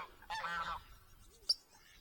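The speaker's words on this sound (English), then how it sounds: "You will notice we have geese here" A goose gives a loud, harsh honk at a clay-pit fishing lake, then a short, sharp call follows a moment later against quiet outdoor background.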